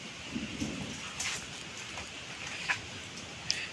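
Steady rain pours on the wet foliage of durian trees in a Musang King orchard during the rainy season, a dense continuous hiss with a few louder drips standing out.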